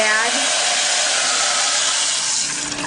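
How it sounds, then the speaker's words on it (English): Four cups of water hit browned rice in a hot pot, setting off a loud, continuous rushing sizzle of steam that eases slightly toward the end. "you're going to add the 4 cups of water"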